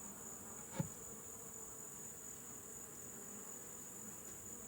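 Honeybees drone steadily inside a Layens hive, a continuous even buzz with one brief louder bee passing close early on.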